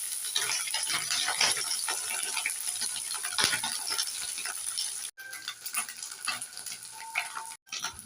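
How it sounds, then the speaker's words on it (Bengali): Small mourala fish frying in a pan give off soft crackling and sizzling, with scattered ticks and rattles from the pan, close and moderately quiet. "এবার মাছগুলোকে একটু ভেজে দেবো"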